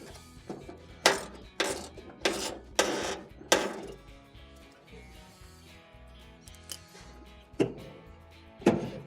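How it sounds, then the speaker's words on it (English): A small ratchet with an extension loosens a 1/4 inch screw on a GE dryer's drive motor bracket, giving bursts of close, loud clicking ratchet strokes, several in quick succession early on, then two more after a pause. "let's go ahead and use a little ratchet with an extension and start to loosen it up here"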